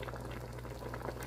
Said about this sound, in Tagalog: Ayan, kumukulo na po.